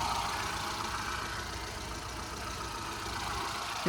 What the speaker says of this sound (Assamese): চাওক ইঞ্জিন কেইটা স্মুথ হৈ আছে ক'তো চাউণ্ড নাই